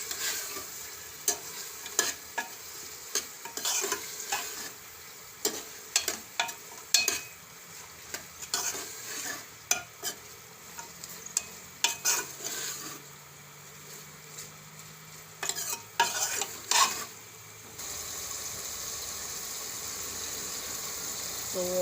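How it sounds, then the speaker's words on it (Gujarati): Cluster beans (guvar) cooked in spice masala are stirred in a hot pan, with steady sizzling under repeated scraping and clinking strokes of the spoon, close and fairly quiet throughout. "આપણે એકાદી મિનિટ આપણે આ રીતે મસાલામાં સરસ ગુવાર પકાવી લીધો"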